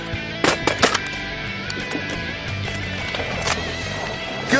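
Shotgun blasts ring out during a teal duck hunt in Mississippi, several sharp reports in quick succession early on and another later, outdoors with faint background noise.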